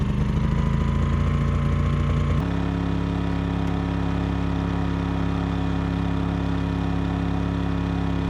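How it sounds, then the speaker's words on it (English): A small generator at an off-grid cabin runs with a loud, steady, close drone; a rougher engine rumble fills the first couple of seconds before the even hum continues alone. "we're gonna turn on the little generator and let this run for a little bit"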